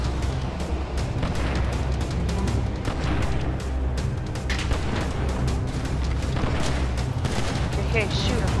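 Repeated gunfire crackles through a Grand Theft Auto roleplay prison-break shootout, with dense bursts of shots over a low rumble, loud and close, and voices talking amid the firing.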